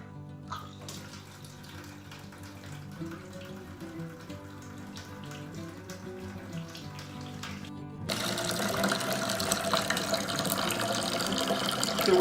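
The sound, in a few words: wort draining from mash tun into fermentation bucket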